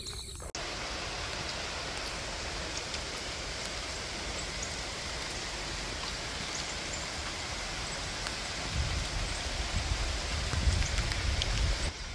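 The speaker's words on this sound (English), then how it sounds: "Finally getting some much welcomed rain." Rain falling outdoors around a rural field and food plots, a steady broad hiss throughout with heavier low rumbling from wind toward the end, no talk.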